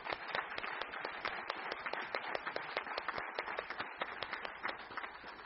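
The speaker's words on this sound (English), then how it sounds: "let's give them one more round of applause" Audience applause at a student essay contest awards ceremony, a dense patter of many hands clapping steadily for several seconds, fairly faint and distant in the hall.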